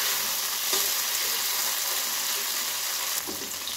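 Okra fries in oil in a pan with a continuous bright sizzle and the occasional scrape of stirring, close and steady, with no talking.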